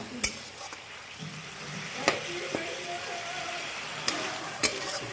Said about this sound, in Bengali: এরপর ভালো করে মশলাটা কষিয়ে নেব।